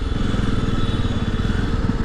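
A Jawa 42 Bobber motorcycle rides along city streets in Delhi, its engine giving a steady, close, low thrumming pulse without any talking.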